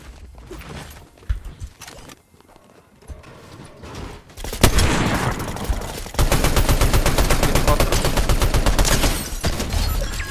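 Gunfire in the video game Fortnite: scattered single shots at first, then sustained rapid automatic bursts rattling loudly and continuously through the second half.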